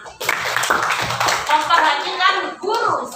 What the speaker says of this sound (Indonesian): alhamdulillah, tepuk tangan Isma.